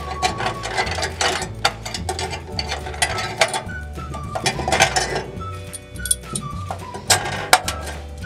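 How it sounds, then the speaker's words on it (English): Ratcheting clicks from a 10 mm socket wrench unscrewing the plate on a towel steamer, a steady run of close, crisp mechanical ticks and metallic clinks with no talking. "So we're using a 10 millimeter socket. Simply unscrew this, remove the plate so that you can pull out the sensor."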